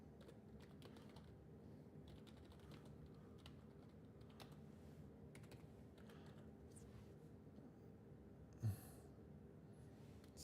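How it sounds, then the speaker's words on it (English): Light, quick key tapping on a computer keyboard, faint and steady over a quiet room hum, with one brief louder knock near the end. "I do it a lot faster on the keyboard."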